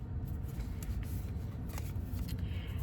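Tarot cards are shuffled for a morning reading in a quiet room, giving soft, continuous riffling and sliding close by with faint low background hum, no talking.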